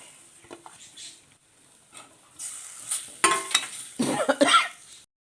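Tomato dropped into spices frying in a pan for a sardine curry, a sudden burst of loud sizzling after quieter moments, with stirring clatter and crackle close up.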